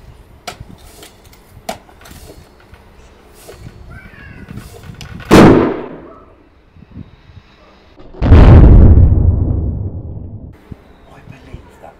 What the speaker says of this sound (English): I believe that was the best bang ever heard in my back garden.